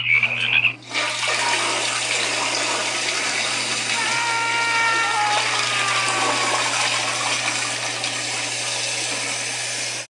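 A toilet flushes loudly and close by, a sustained rushing gush of water lasting several seconds before cutting off abruptly, with a low steady hum underneath.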